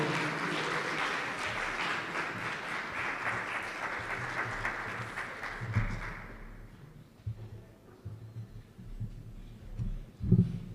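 Sustained audience applause at an awards ceremony, a dense crowd clapping loudly for several seconds before quickly thinning out. Scattered claps and low thumps follow over quieter room noise.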